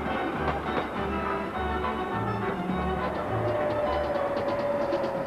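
A passenger train runs along the rails with a loud, continuous rumble and a steady clickety-clack of wheels over rail joints, heard close by with no voices.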